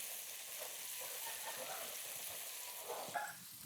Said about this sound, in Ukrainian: Розмішуємо